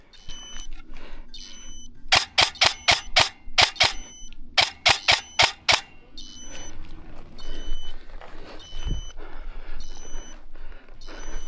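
Airsoft replica gun fired outdoors in winter: two quick series of sharp, snapping shots, each about six shots in a fast rhythm, close and loud, followed by quieter rustling and movement.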